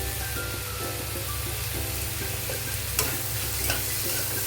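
Pointed gourd seeds fry with onion, garlic, green chillies and salt, giving a steady, close sizzle with light stirring scrapes and a couple of sharper clinks near the end, no voices.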